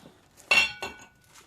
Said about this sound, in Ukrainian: Хочу так викласти, щоб більші каструльки поставити на задній план